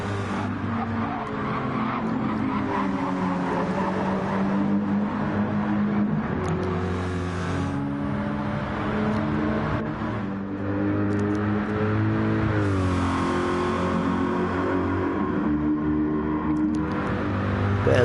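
A race car in a PS4 racing game revs hard, its engine whine climbing and dropping through gear changes while tires skid and squeal, loud and continuous over a long stretch.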